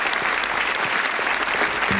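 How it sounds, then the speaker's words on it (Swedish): Loud, dense applause from a crowd, steady and continuous throughout with no pauses. "Och stora applåder till Ted."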